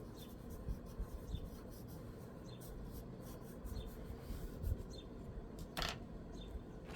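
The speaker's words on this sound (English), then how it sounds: "So I'm drawing the thumb." A pencil scratches and rubs across paper while sketching a figure's thumb, soft close strokes in short irregular bursts with light taps, quiet and without talk.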